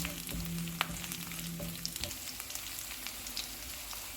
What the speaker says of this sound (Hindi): चूल्हे को मैंने लो टू मीडियम रखा हुआ है, इसको 1 मिनट तक फ्राई करेंगे